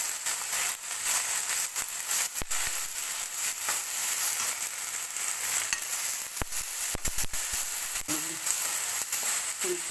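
Garlic and ginger paste fries in a hot pan with a steady, loud broadband sizzle, broken by a few sharp clicks of a spoon scraping and stirring.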